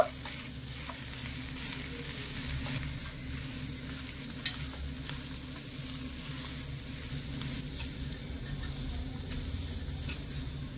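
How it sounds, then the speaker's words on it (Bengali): Steady, soft sizzling and scraping as a cabbage paratha filling with sugar and chopped coriander is stirred in a pan, continuous and close with a few sharp clicks of the utensil. "ভালো করে নেড়েচেড়ে মিশিয়ে নেব"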